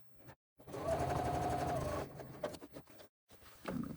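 A sewing machine runs a steady, close whirring stitch for about a second and a half while stitching a crossbody bag, then gives a few short bursts and clicks with pauses between, and no one speaks.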